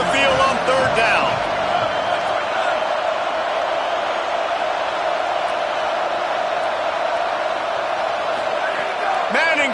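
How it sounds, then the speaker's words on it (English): A home crowd roars steadily through a college football game between Texas and Florida as the defense tries to get off the field on third down, a loud, sustained wall of cheering with a commentator's voice over the top. "Here comes this home crowd as the defense tries to get off the field on third down"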